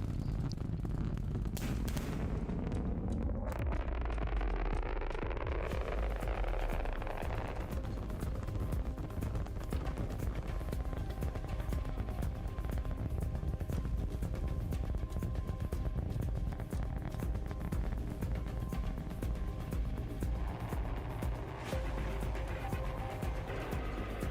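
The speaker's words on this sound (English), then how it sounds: "Booster landing burn startup." A SpaceX Super Heavy booster fires its Raptor engines for the landing burn, heard as a continuous loud roar with heavy crackling and rumble. It stays dense and unbroken throughout, with no talking over it.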